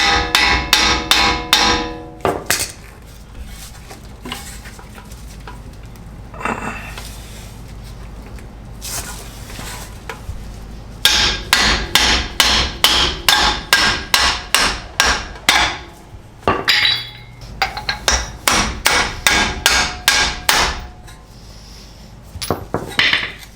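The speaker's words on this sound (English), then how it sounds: "So at this point, I need to just take off the castle nut, give the CV a tap" Sharp metallic hammer blows ring out against a Toyota CV axle and castle-nut area, struck in rapid bursts of many taps with short pauses between, loud and close.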